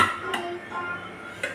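A metal pot is set down inside a pressure cooker with water, giving two or three short metallic clinks and knocks, close and clear against a quiet kitchen.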